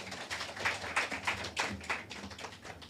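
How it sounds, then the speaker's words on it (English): Audience applause at a book launch and award ceremony, a quiet, distant patter of clapping hands sustained for a few seconds with no voices over it. "Give him a round of applause."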